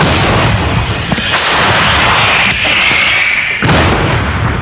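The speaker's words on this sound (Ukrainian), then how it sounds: "Гармата! Постріл!" Loud, broadband booming blasts of an artillery cannon firing at the front line in Ukraine, three heavy shots in quick succession, harsh and close, with no talking.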